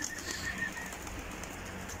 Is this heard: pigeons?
yes